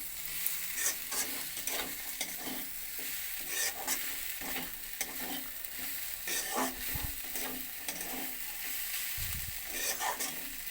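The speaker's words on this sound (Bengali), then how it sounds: "বাঁধাকপিটা আমার ভাজা হয়ে গেছে" Shredded cabbage frying in a pan with chillies and sugar, a continuous soft sizzle broken by repeated scraping strokes of a spatula stirring the vegetables, close and steady, with a couple of heavier knocks against the pan.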